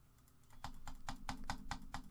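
Quick, light, regular clicks while playing Pokemon TCG Online on a computer, about eight close, crisp taps in an even rhythm, with no talking.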